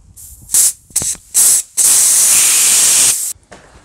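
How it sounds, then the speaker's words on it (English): Bursts of sandblasting on the nuts of a BMW E31 850i during its restoration: loud, close spray hiss in three short blasts followed by one long sustained blast, with no talking. "And I decide to sandblast my nuts."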